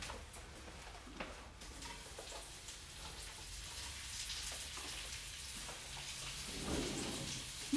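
Shiitake, bella and portobello mushrooms fry in butter beside salmon in a pan, making a faint, even, rain-like crackling sizzle that grows slightly over several seconds, with no voices.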